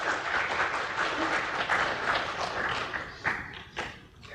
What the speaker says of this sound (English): a huge round of applause for all our partners and yourselves